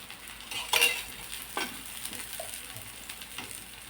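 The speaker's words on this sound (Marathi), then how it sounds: "आलटीपलटी करून भाजून घेणार आहोत. आणि कमी तेलामध्ये होते" Bottle gourd thalipeeth roasts in a little oil on a hot griddle with a soft, steady sizzle, broken by a couple of brief scraping clinks from a spatula.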